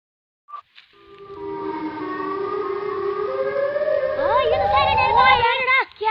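An air raid siren recording plays loudly from a device. Its long rising wail builds steadily and then warbles before it cuts off, after a couple of brief clicks at the start.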